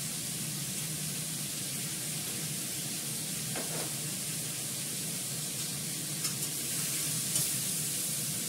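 Cumin seeds temper in hot oil, giving a steady, even sizzle that hisses continuously at a moderate level, with a few faint clicks near the end.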